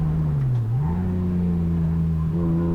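Engine of a BMW E36 rallycross car on track, a loud steady drone heard from inside that dips briefly and then climbs in pitch as it pulls through a fast kink.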